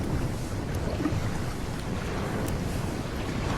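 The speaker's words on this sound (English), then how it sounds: "these water sounds are stirring something within me" Continuous soft wash of water and waves with a windy, hissing edge, steady and moderately quiet throughout, in a virtual-reality staging of The Tempest.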